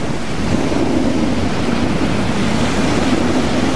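Steady, loud surf rushes against the shore at Alcudia, Majorca, a continuous broadband wash of breaking waves with wind buffeting the microphone and no voices.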